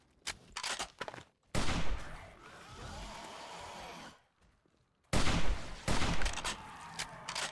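Bursts of rapid gunfire from the video game 7 Days To Die, loud and close, in several volleys separated by a lull with a softer sustained rumble and a brief silence.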